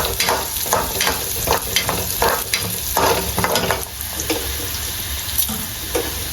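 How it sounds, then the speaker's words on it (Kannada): Mustard seeds and black pepper fry in hot oil for a Mangalore-style crab sukka, a steady close sizzle broken by a rhythmic series of spoon scrapes and stirs throughout. "ಸಾಸಿವೆ ಕರಿಮೆಣಸು ಪಾಡ್ದು ಎಣ್ಣೆಡು ಫ್ರೈ ಮಾಡ್ತದೆ"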